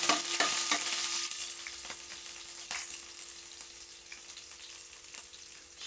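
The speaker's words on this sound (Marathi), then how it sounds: "हिरवी मिरची आणि कापलेले लसूण टाकायचे लसूण छानपैकी असं परतून घेऊया" Green chili and chopped garlic sauté in a hot pan with a steady, close sizzle, punctuated by a few sharp stirring scrapes early on before the frying settles into a softer, continuous hiss.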